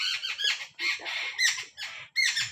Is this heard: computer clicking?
no